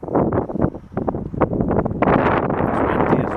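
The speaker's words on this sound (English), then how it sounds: "It's windy as well." Strong gusts of wind buffet the microphone on an icy cold morning at a derelict boat yard, rumbling and roaring unevenly, growing heavier toward the end.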